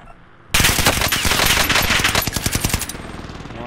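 Loud rapid automatic gunfire from a shooter video game erupts after a quiet half second, sustained bursts of shots that thin into separated cracks toward the end.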